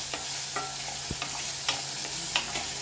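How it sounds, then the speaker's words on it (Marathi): Onion, garlic and green chillies fry in a pan, giving a steady close sizzle with intermittent stirring scrapes and clinks of a spoon, with no talking. "कांदा टाकल्यानंतर आपल्याला लगेच लसूण आणि हिरवी मिरच्या टाकायची, म्हणजे कांद्याबरोबर त्या पण शिजतील."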